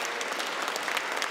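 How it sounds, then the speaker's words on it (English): An audience at a book introduction event breaks into applause, a short, steady wash of many hands clapping at moderate distance, soft but continuous. "Yes, applause break."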